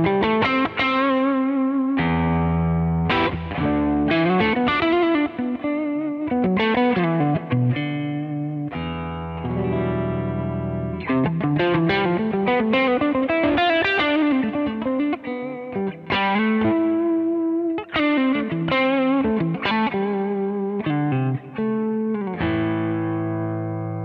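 Electric guitar run through a Kemper drive effect at low gain, giving a lightly overdriven tone as it plays a steady stream of chords and single notes, loud and close with no talking.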